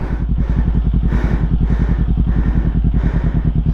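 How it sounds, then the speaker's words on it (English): A motorcycle engine chugs in a steady, close pulse as the clutch is eased out in first gear with no throttle, the beat holding even and moderately loud throughout, with no speech. "pull on the clutch, shift it into first, and slowly let it out. See, it'll start grabbing."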